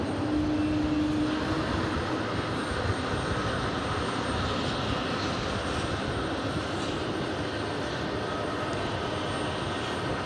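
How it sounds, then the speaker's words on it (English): A JetBlue Airbus A220-300 taxis into gate 3 of Terminal 5 at JFK, its engines giving a loud, steady roar and whine that holds unbroken throughout. "JetBlue Airbus A220-300 pulling into gate 3 of Terminal 5."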